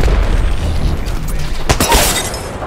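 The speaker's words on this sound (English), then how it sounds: "shots fired and they're hitting me" Incoming gunfire striking the player's craft in an aerial combat video game, a dense rattle of sharp impacts peaking in a bright burst about two-thirds through, loud over a steady engine drone.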